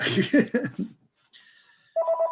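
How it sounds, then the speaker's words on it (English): A telephone rings during a community committee meeting, sounding as a short electronic ring burst and then a steady warbling trill, heard alone after talk ends. "I've got a phone ringing here."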